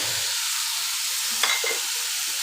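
Hilsa fish frying in oil makes an even, close sizzle with one brief scrape of a stir near the middle, and no one speaks.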